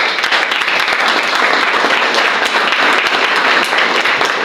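Dense, steady applause from a church congregation during a worship service, loud and sustained throughout with no voices on top.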